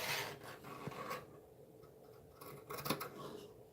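Scissors snipping through fabric in a few close, crisp cuts with soft rustling between them, no talking.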